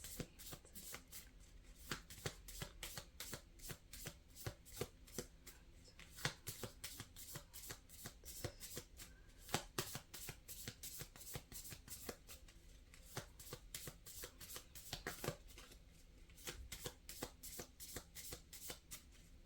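Tarot cards being shuffled continuously for about twenty seconds, a dense run of crisp riffling flicks and soft slaps close by, steady and unbroken with no voices.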